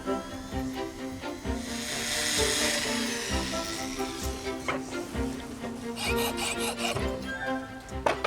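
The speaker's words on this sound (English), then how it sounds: "I've got a piece of brass here, which is the same thickness. I'm drilling some holes in it" A pendant drill bores small holes in a thin brass strip in a repair workshop, giving a soft, continuous rasping whir with short scraping bursts, fairly quiet and without speech.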